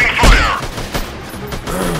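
A loud, sharp sniper rifle gunshot rings out in a video game, followed by a couple of fainter shots in quick succession.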